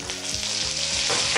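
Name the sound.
curry leaves sizzling in hot oil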